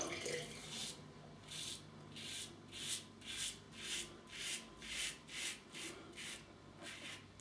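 A razor blade dragging through shaving cream in a steady series of about a dozen soft rasping strokes, evenly spaced and close, quiet throughout with no talk.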